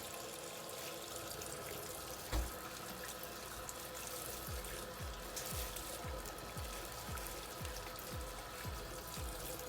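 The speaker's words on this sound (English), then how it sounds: "Just gonna apply a little bit of warm water right in my hair." Warm water is sprinkled onto hair during a hair-dyeing session, giving a soft continuous trickle and splash with faint repeated low thumps, close and quiet.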